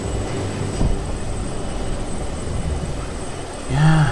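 Small propeller plane engine in the Just Cause 2 video game, a steady droning hum throughout with a louder swell near the end, no talk.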